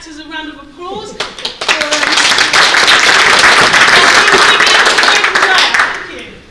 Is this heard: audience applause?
yes